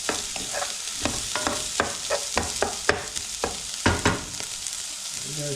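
Garlic frying in a pan for Mediterranean cod is stirred with repeated scraping strokes in an irregular rhythm over a constant close sizzle, with no talking.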